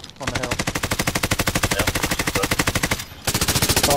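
Automatic gunfire in Call of Duty Warzone: a loud, rapid machine-gun burst of evenly spaced shots, a brief pause, then another sustained burst, close and dominant.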